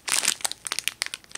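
A Daiso bread twist squishy toy is pressed and squeezed, giving short, close crinkling and crunching rustles in quick uneven bursts, with no talking.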